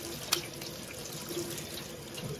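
Cold tap water runs steadily over a lump of homemade butter during rinsing, a continuous close splashing stream with one brief sharper splash early on.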